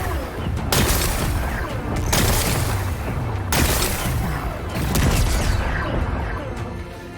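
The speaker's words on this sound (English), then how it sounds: "Gotta blast away some rocks, so I can expose the power cell." Repeated explosions blasting rocks in the video game Horizon Forbidden West, loud booming bursts recurring roughly every one to two seconds over dense rumbling debris, with no pause between blasts.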